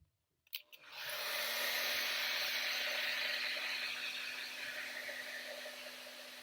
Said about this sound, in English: finish blow drying that